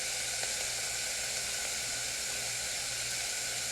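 Carrots cook down in a pan on the stove, giving a steady, even sizzling hiss at low level that carries on without a break and with no voices over it.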